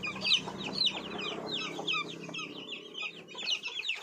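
Month-old desi chicks peep and chirp in quick, high overlapping calls while being weighed, with faint low hum and handling noise underneath.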